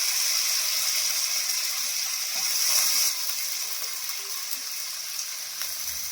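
Carrots and beans fry in a pan for spicy Indian-style gravy pasta, giving a steady close hiss and sizzle that stays fairly quiet throughout, with no talk over it.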